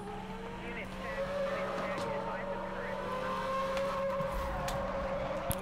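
Car engine in the Need for Speed: Most Wanted racing game, a steady droning rev with rising and falling pitch as another car approaches, heard alongside background game sounds.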